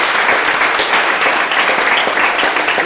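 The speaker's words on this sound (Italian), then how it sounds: "a cui andrebbe un applauso" Theatre audience at a comedy show applauding, loud dense clapping from many hands, continuous and close for the whole stretch.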